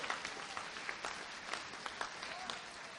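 A quiz audience at Landmark Quiz 2012 breaks into a dense, steady round of applause for the winning team, the Royal Bengal Tagores, with many hands clapping at once for the full few seconds.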